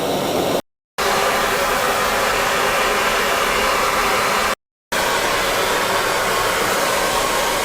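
Torch flame heating an old steel file until it glows cherry red: a loud, steady roaring rush that cuts out twice for brief silent breaks, then resumes.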